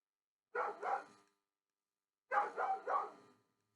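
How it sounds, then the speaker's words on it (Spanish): A dog barks twice in quick succession, then pauses and gives three more rapid barks, moderately close and clear against an otherwise quiet room. "hay un perro ahí que está ladrando y ladrando"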